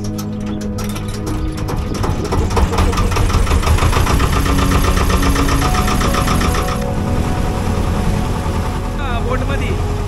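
A boat engine runs throughout a boat ride to Vasota fort. The loud, close, steady mechanical drone rattles and clatters, easing slightly toward the end.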